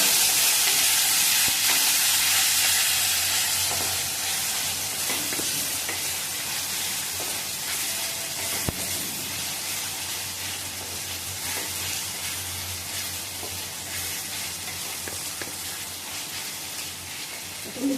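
Tomatoes sizzle and fry in a pan while being stirred, a steady close hiss with occasional scraping stirs, loudest at the start and easing slightly over time.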